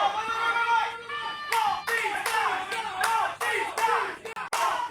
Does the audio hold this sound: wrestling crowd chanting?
yes